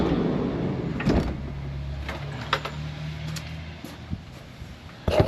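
A car being parked makes a low steady engine hum with scattered clicks and knocks, then a firm thud near the end, all close by with no talk.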